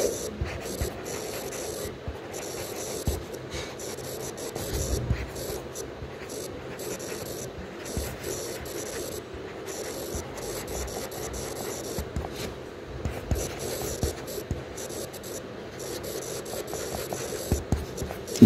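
Chalk or marker scratches and rubs across a board during a matrices lesson, a steady stream of short strokes and taps continuing for the whole stretch with no voice over it.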